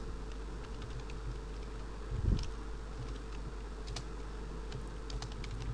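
Quiet, steady clicking of keys as HTML code is typed on a computer keyboard, with a light continuous patter under a steady background hum and no voices.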